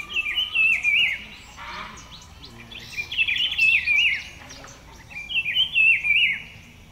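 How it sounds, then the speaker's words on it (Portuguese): Small birds chirp and warble in repeated bright phrases at the Lago do Cuniã extractive reserve in the Amazon, three clear bursts of song over quiet natural background. "A recepção fica a cargo dos passarinhos."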